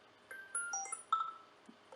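An iOS 7 ringtone plays from an Android phone, a clear electronic melody of bright synthetic tones in short overlapping notes, alone and fairly soft.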